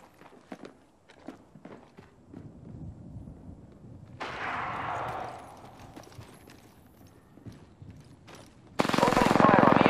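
Gunfire and footsteps in the video game Apex Legends, with quick footfalls and scattered shots, then a loud rapid burst of automatic fire at the end.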